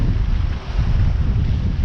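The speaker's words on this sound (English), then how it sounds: "It's very, very windy." Strong wind roars steadily against the microphone on a sailboat at sea off Hook Head, Ireland, a loud, dense low rumble with brief gusting dips and no voices.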